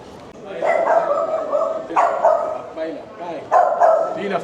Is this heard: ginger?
no